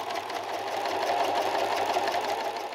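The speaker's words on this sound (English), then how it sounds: "Next, I sew the skirt pieces together." A sewing machine runs continuously and fairly close, stitching together the skirt pieces of an 1882 Victorian day gown, with no talking.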